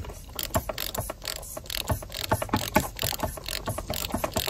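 A ratchet with a 36mm socket loosening the top oil cap on a Volvo, heard as a series of quick, close clicks in irregular bursts, fairly faint.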